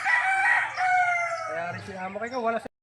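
A rooster crowing loudly and close, one long drawn-out crow from backyard-bred chickens in Barangay Masaya, Rosario, Batangas, ending abruptly.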